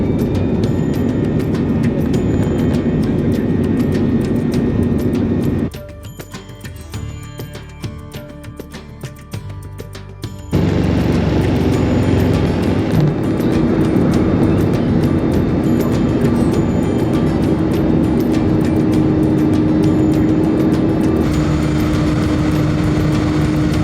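AirAsia India airliner taxiing to the runway, heard from inside the cabin as a steady engine drone and rumble, dipping briefly quieter midway before resuming loud and constant.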